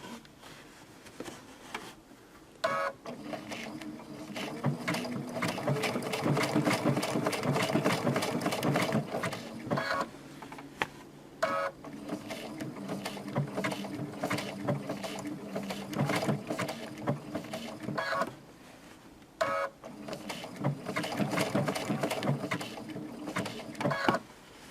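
A sewing machine stitches a satin stitch around an appliqué leaf, running in steady rhythmic bursts with brief pauses between passes, close and fairly loud.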